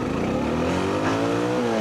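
Honda XR650L and Yamaha T7 motorcycles accelerating together on a highway, a loud engine tone climbing steadily in pitch as they speed up, close and continuous with no talking.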